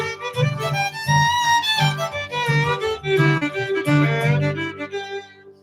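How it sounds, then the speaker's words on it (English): A guitar plays an extended-range major blues scale, clear, sustained single notes ascending and descending steadily over several seconds, close and moderately loud. "That's the what's called extended range major blues scale."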